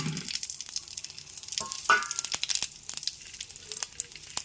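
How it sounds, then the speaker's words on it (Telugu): Green chillies sizzle in hot oil while a tempering is made for a chutney, a quiet, steady crackle with a few sharper pops and no one speaking. "ఇప్పుడు ఇదిగోండి పచ్చిమిర్చి వేస్తున్నాను"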